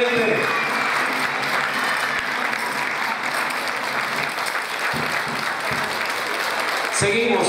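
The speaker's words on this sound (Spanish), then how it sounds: "Y le damos ese fuerte aplauso para aquella." Steady applause from a pageant audience at a children's modeling contest fills the room evenly for several seconds, with a presenter's voice heard over the clapping.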